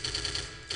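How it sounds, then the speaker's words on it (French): Anti-aircraft cannon firing in the Battle for the Pacific PC game: a rapid burst of repeated booming shots in a quick, even rhythm over dense rumbling battle noise. "je dois utiliser le canon anti-aérien"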